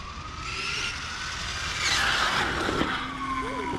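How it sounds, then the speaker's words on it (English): Video game car skidding and spinning out under hard braking, a continuous tire screech with engine tones rising and falling, fairly loud and steady through the whole stretch with no talk. "Why am I spinning out when I hit the brakes?"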